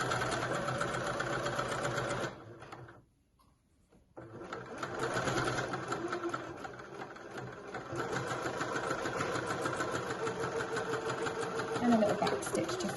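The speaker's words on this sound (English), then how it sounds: "And then I can just sew all the way down to the bottom of that hem." A sewing machine stitches a dress side seam down to the hem, past the pocket bag, running in a steady close hum that drops away briefly near the start before resuming unbroken.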